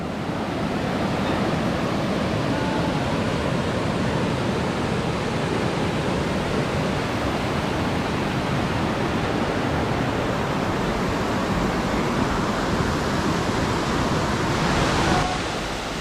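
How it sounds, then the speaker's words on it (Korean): A steady, heavy roar of rushing water, close and unbroken, from Guryong Falls in Sogeumgang Valley on Odaesan, South Korea, pouring down without pause. "여기가 구룡폭포군요"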